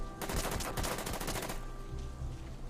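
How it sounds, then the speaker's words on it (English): Gunfire in the Order of Battle war game, a short burst of rapid loud shots fading into a low rumble as the shooting stops. "No effect from that shot."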